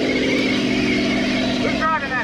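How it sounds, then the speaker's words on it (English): A truck engine drones steadily at close range during a mud run event, rumbling under a wash of background noise. "Who's driving that truck?"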